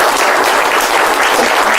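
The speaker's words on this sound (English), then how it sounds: "Give her a round of applause" Loud, dense applause from a live audience at a mentalism show, a steady wash of clapping close by throughout.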